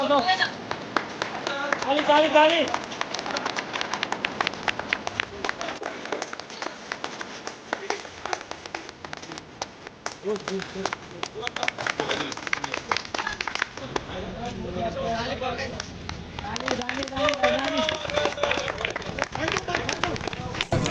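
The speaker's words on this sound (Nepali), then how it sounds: "अब ताली" A crowd applauds at a mini marathon in Bahradashi, with dense, continuous clapping and people talking over it throughout.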